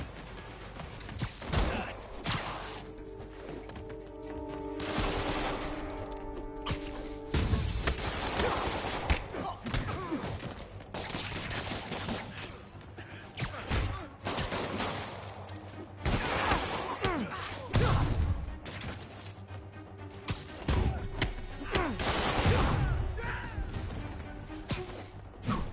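Enemy gunfire crackles through a Spider-Man video game fight, bursts of shots mixed with thuds, crashes and impacts in a continuous loud clamor, with a voice speaking over parts of it.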